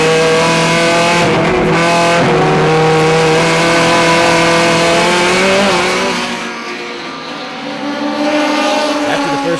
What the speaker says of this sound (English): Ryan Flaherty and Andy Hope making a gutsy pass on Matt Dudek.